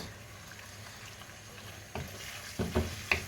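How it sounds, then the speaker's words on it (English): Salted chicken and vegetable lasagna filling is stirred in a pan with a faint sizzle and a few soft scraping clinks toward the end, close and quiet with no talking. "Let's give this a little mix."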